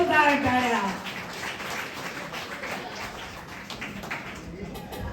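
Audience at a Diwali Pahat music programme applauding prize winners, a sustained wash of clapping from a crowd after a brief voice at the start, steady and moderately loud.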